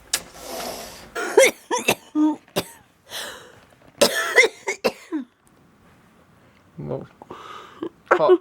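Several sharp coughs and throat-clearing sounds come in short bursts, mixed with people talking nearby in a quiet room.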